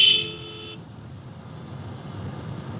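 A Royal Enfield Bear 650 motorcycle gives a single short, loud horn blast on a road, which then drops away to steady engine and wind rumble.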